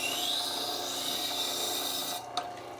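A chef's knife is drawn across a wet whetstone in a steady, continuous scraping rasp for about two seconds. The stroke stops abruptly, followed by a small knock and then quiet.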